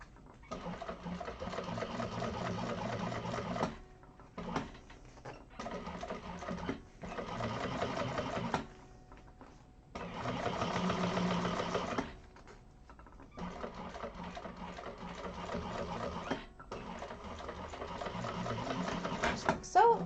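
A sewing machine top stitching across a pulled-taut seam runs in steady bursts of rapid stitching, pausing briefly between runs, close and clear in a quilting class.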